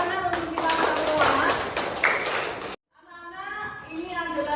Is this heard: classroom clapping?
yes